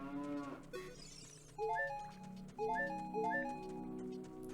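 Cow mooing in Zelda: Ocarina of Time, a few stylised low moos alone, followed by a bright melodic game jingle of plucked notes at moderate loudness.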